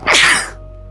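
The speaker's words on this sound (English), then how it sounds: "Uh-oh, I'm gonna sneeze" A single sharp sneeze from a nearby adult, a loud burst of breathy noise lasting about half a second, then quiet room tone.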